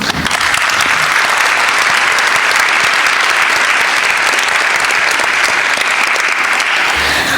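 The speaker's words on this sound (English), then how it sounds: "I want to extend a round of applause to the high school, middle school, and elementary community leaders" An audience at a community service awards ceremony claps steadily for student community leaders, a loud, even wall of applause from a large crowd that continues without pause.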